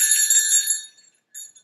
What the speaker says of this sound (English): little sleigh bells.